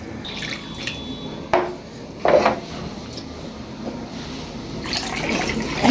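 Water being handled in a kadai for biryani, with splashing, pouring and dripping in short bursts and quieter gaps, close by with no talking.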